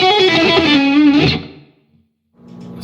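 An Ibanez PGMM11 guitar on its single-coil pickup, heavily distorted, rings out one loud sustained chord with a bending, chorus-like shimmer that decays after about a second and a half, then a softer note begins.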